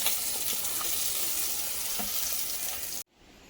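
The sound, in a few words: korameenu fish frying in oil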